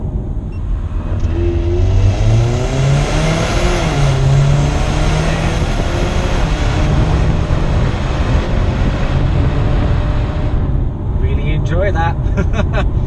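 A Jaguar XE R-Sport with a double-clutch gearbox in dynamic mode, its engine climbing and dropping in pitch through rising revs, loud and close from inside the cabin, with steady road roar beneath and someone talking over it.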